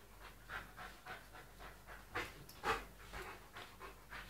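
A dog pants rhythmically during rough play, quick repeated breaths close by and fairly soft, steady throughout with a few stronger huffs.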